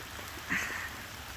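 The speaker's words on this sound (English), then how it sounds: "It's really cold. It's raining a ton." Heavy rain falls outdoors in cold weather as a dense, even patter. It stays fairly faint throughout, with a small swell just past the midpoint.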